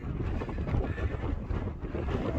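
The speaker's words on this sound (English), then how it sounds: "Very sunny but very windy as well." Strong wind buffets the microphone on Derwent Edge in the Peak District, a continuous loud low rumble with gusting roar and no voices.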